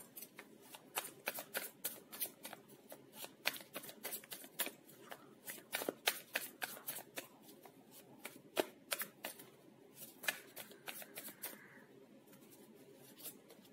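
Tarot cards are shuffled by hand in quick, crisp riffling bursts, close and fairly quiet, repeating in an irregular rhythm for over ten seconds with no talking.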